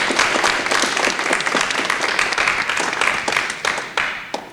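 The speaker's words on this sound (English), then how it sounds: "please give a round of applause and welcome our guests" Dense, lively audience applause welcomes guests at an anthropology talk event, loud and continuous from start to finish.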